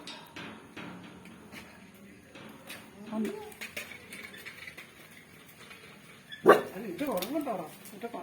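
People talk throughout, and near the end a dog lets out a sharp bark followed by a few whiny yelps and whimpers.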